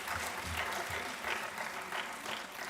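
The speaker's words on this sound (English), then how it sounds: "You can see the claps, they all are asking for that." An audience at a legal conference on women in law applauds, a steady patter of many hands clapping at moderate distance with no break.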